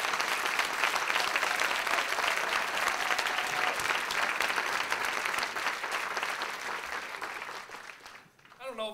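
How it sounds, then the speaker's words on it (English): Sustained applause from a large audience at the 2014 Sunrise Pinnacle Awards, a Rochester chamber of commerce ceremony, honoring the winners. Dense, steady clapping fills the room at full strength for several seconds before thinning out near the end. "How about one round of applause for all?"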